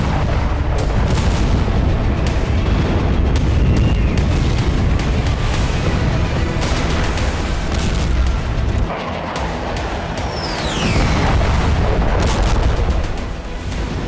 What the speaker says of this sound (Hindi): नेतन्याहू ब्रिगेड का बारूदी ताप इतना विस्फोटक था